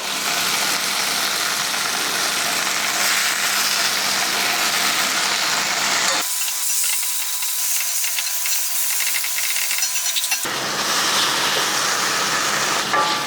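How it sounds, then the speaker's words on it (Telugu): Gongura leaves frying in hot oil in a pan, a loud, steady broadband hiss that holds unbroken for the whole stretch, dipping to a thinner, quieter sizzle in the middle before rising again. "ఇలా కొంచెం కొంచెం వేసుకుంటూ మొత్తం అంతా కూడా ఫ్రై చేసుకోవాలండి"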